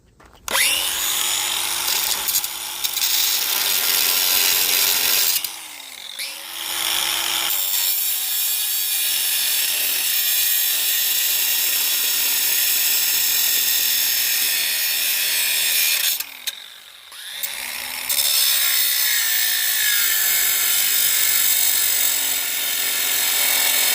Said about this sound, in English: I'm gonna finish cutting that now.